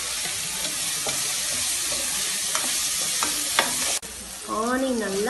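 Chopped onions sautéing in a pan for mushroom biryani, a steady close sizzle with scraping stirs throughout, briefly cut off near the end before a whistling tonal sound rises.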